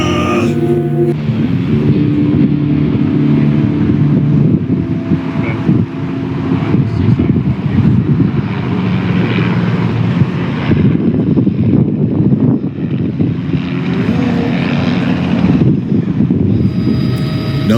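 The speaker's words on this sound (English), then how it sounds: "now it's time to get to the chopper!" A helicopter engine drones steadily for the whole stretch, a loud close rumble mixed with wind buffeting and no clear talk over it.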